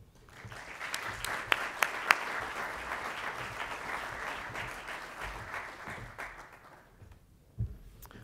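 Audience at an agricultural innovation summit breaks into sustained applause to welcome Dean Ajay Menon, many hands clapping steadily for several seconds before fading, with a few sharp louder claps early on.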